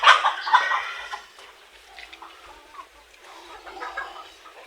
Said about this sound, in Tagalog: Yung mga manok naman, well, kumain na.